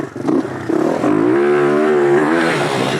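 A motorcycle engine revs loudly and close on a dirt jump track, climbing in pitch through a steady, rising drone over about three seconds with no talking.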